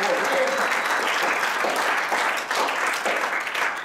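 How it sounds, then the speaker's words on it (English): A congregation at a worship gathering claps hands and shouts for joy, a dense, loud, continuous wash of applause with voices mixed in that holds steady throughout. "And we need to give expression to that divine inspiration with shouts of joy and with hand claps for Jesus"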